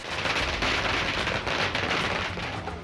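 Fireworks and firecrackers crackle in a dense, continuous hiss of rapid pops at a crowded street celebration in Varanasi, loud and unbroken throughout.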